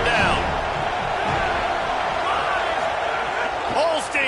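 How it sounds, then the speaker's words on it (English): Stadium crowd at a college football game on a third-down defensive play, a loud, steady roar of cheering that swells throughout with a commentator talking over it. "Decibels rising as the crowd gets behind this defense on third down."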